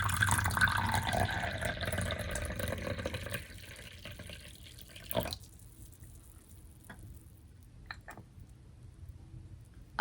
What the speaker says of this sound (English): So we are gonna pour ourselves some hot tea.